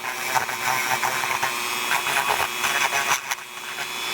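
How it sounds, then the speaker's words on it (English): A rotary tool bit grinds built-up epoxy off metal hangers, a steady high-pitched whine with a gritty buzzing edge that rises and dips slightly as the bit bears into the work, continuous and fairly close throughout. "this bit will cut right through the metal. And it's good for shaping the epoxy."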